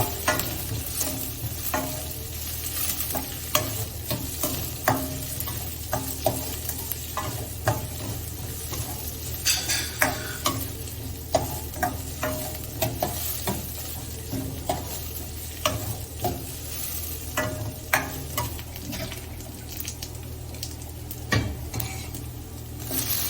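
Steady sizzling of tempering spices frying in hot oil, with occasional stirring clinks and scrapes in the pan, no voices.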